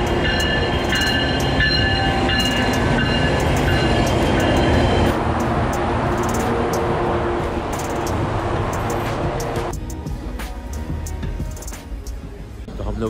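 A GO Transit Lake Shore West commuter train rolls out of Union Station, its steady interior rumble and rail noise loud and continuous from start to finish, with voices audible at times over the ride.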